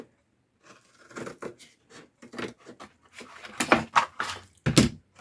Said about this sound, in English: But I'm going to cut off these flaps.